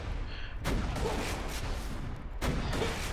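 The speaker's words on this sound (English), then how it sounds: "it shoots a fucking pumpkin" Pumpkin-launching Torgue shotgun in Borderlands: The Pre-Sequel firing two loud, booming blasts about two seconds apart, each a broad explosive burst trailing into rumbling noise.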